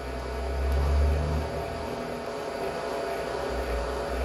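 A Bridgeport J-head milling machine with a boring head cuts mild steel, giving a steady, close mechanical drone with a low rumble that swells briefly and then settles into a continuous grind.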